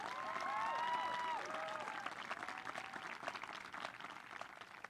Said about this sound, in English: you should applaud each other